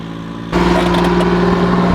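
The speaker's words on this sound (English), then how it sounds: "All right, mini truck to the rescue." Small farm mini truck engine starts up about half a second in and then runs steadily nearby with a loud, even mid-pitched drone, after a short stretch of quieter background noise.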